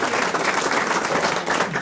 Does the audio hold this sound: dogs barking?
no